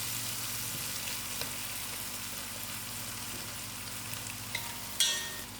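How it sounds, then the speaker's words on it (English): Sugar beans curry ingredients, with tomatoes added, fry together in a pot over lowered heat, giving a steady, close sizzle with faint stirring scrapes and a sharper clatter near the end. "let all these items fry together for about 10 minutes"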